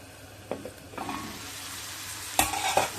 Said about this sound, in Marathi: शिजू दे जरा कांदा